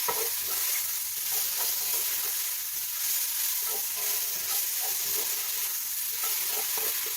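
Beef is stirred in a hot frying pan, a continuous close sizzle with a rhythmic scraping of the utensil through the meat, no talking.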